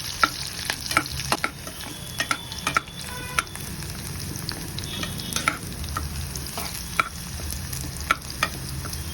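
Onions and curry leaves sauté in oil in a pan for a village-style liver gravy, sizzling steadily, while a spoon scrapes and clinks against the metal in irregular bursts close by.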